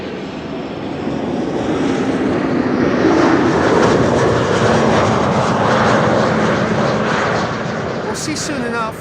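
A fixed-wing airliner arrives at Amsterdam Schiphol Airport from the east, its engine roar swelling into a loud, steady rumble that lasts throughout, with faint voices underneath.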